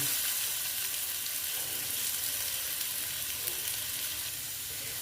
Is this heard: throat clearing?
no